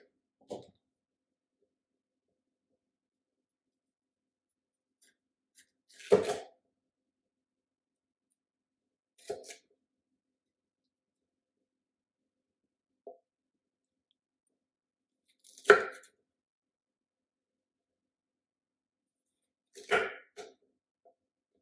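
A knife cuts vegetables on a cutting board in about six isolated thuds and clicks, spaced several seconds apart with near silence between them, close and fairly quiet.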